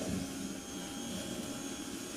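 Electric hand mixer whipping cake batter until thick and pale, a steady whirring motor hum close by with no talking.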